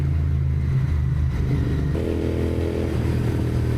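A Continental GT 650 motorcycle rides through a tunnel, its engine a loud, steady rumble that echoes, with no talk.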